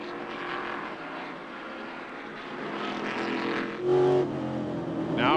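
A NASCAR race car engine roars steadily amid other cars, its pitch dipping briefly as it eases off the gas before surging back up.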